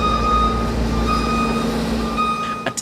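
Shunting trucks reverse on the docks of a container port, their steady reversing beeps repeating in an even rhythm over a loud, close diesel rumble, with a brief hiss of air brakes near the end.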